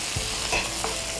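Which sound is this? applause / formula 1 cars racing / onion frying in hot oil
onion frying in hot oil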